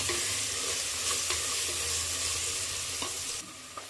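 Onions fry for mushroom biryani in a pan, a steady dense sizzle with occasional stirring clicks and scrapes, close and continuous, the sizzle thinning slightly near the end.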